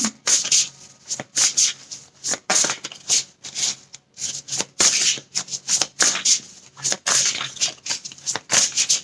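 Oracle cards are shuffled by hand in quick, repeated riffling bursts, close and crisp, with short pauses between runs and no talking.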